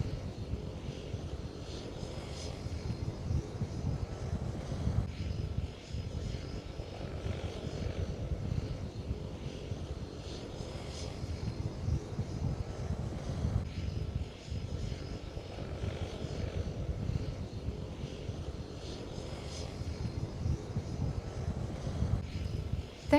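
A seaplane engine and propeller hum steadily in Victoria BC harbour on a blustery day, a sustained moderate drone with gusts of wind noise on the microphone throughout.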